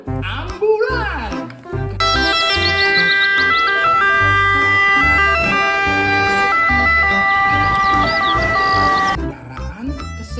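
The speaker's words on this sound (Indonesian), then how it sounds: "Dan keluarlah, wow, ada mobil ambulan." A toy ambulance plays its electronic siren, a loud wailing two-tone pattern that runs steadily for several seconds, with a person talking before it starts and after it stops.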